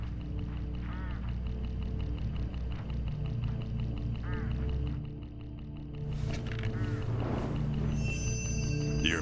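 A flock of crows swarming in the mystery video game Hitchhiker, with repeated raspy, honking calls over a steady low drone that grows denser and busier toward the end.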